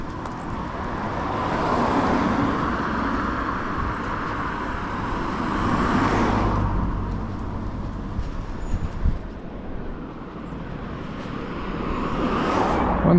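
Road traffic passing along a street in Carluke, with vehicles swelling and fading as they go by, a continuous roadside rumble that lasts the whole time.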